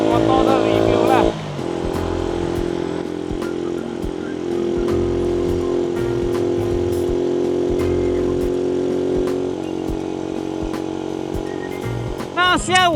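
A modified Yamaha LC135 motorcycle engine running while riding, a steady loud drone with shifting pitch and wind, while someone talks over it throughout.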